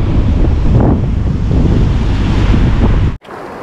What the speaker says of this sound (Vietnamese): hôm nay vẫn sóng gió nha nhưng mà có những ngày nó còn gió hơn nữa